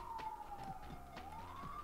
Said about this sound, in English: Hope everyone can hear that sweet ambulance outside.